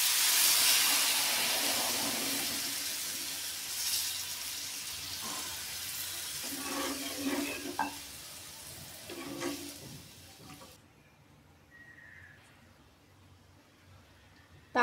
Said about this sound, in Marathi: ताकाला उकळी आली आहे